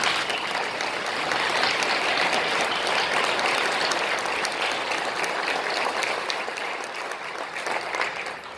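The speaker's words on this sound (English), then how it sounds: "So we'll give them a round of applause" Sustained audience applause for an honor band at a wind symphony festival, a dense, steady wash of clapping from a large crowd that holds level for the whole stretch and eases slightly near the end.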